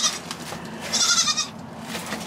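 Baby goats bleat in a trailer, several high, wavering calls one after another over a low steady rumble, close and fairly loud.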